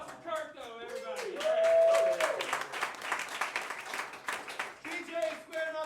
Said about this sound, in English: Round of applause for Kurt, though, everybody.